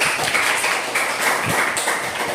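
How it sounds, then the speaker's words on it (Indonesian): Scattered clapping from a group of teachers in a classroom, a steady patter of hands continuing throughout, moderately distant and not especially loud. "tadi Cici, kasih tepuk tangan"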